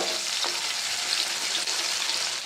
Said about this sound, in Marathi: कांदा गुलाबी रंग येईपर्यंत परतवायचा